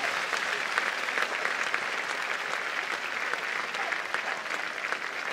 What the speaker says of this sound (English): Oh, you can hear the crowds now.